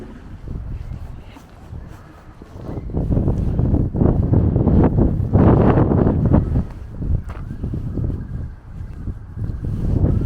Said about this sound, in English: it's certainly a windy day down on the allotment today